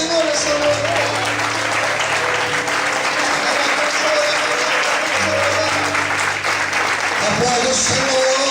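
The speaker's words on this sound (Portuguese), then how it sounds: "Se você crê, aplaude e exalte ao Senhor essa noite." Church congregation applauding during an evening service, loud continuous clapping with voices and tonal sounds mixed in, sustained across the whole stretch.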